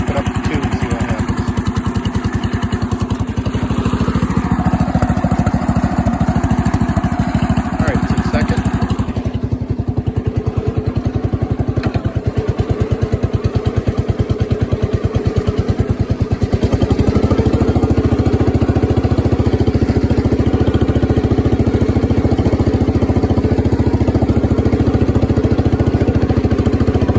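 A 1970 Power King garden tractor engine runs steadily through logging work, a loud close mid-pitched drone that shifts in tone partway through, with a voice speaking over it.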